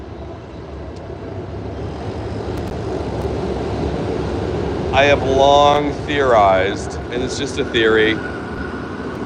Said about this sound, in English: That's the sound of the subway, by the way. I'm literally at subway grate right there.